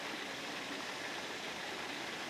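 Steady broadband rush of a waterfall in Coachwood Glen, Megalong Valley, a continuous even roar with no breaks and no voices, heard moderately from a short distance.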